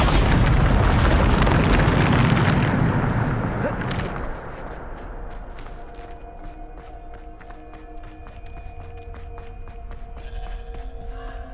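A loud, booming Bombarda spell explosion from the video game Hogwarts Legacy bursts out at once, then its rumble slowly fades beneath sustained game music and ringing tones.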